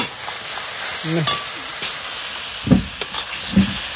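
Chicken kosa, a Bengali-style chicken curry, fries in a pan while being stirred, giving a steady sizzle with a few scraping knocks of the utensil near the end and faint background sounds.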